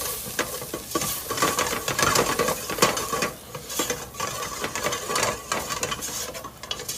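A spoon scrapes and clatters against a pot as flour is stirred into simmering garlic for Zuppa Toscana soup, with irregular strokes over a soft sizzle.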